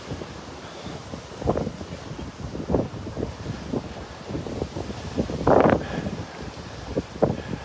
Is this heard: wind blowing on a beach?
yes